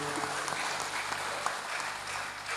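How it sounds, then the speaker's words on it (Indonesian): A crowd claps steadily, a dense, continuous patter of applause at moderate volume. "Tepuk tangan juga nggak apa-apa, yang tepuk tangan satu."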